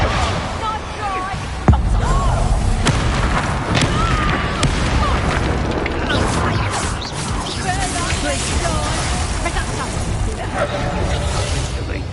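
Explosive spell blasts in Hogwarts Legacy gameplay, with booming crashes and a sharp thump early on amid a dense, continuous mix of game music, effects and character voices.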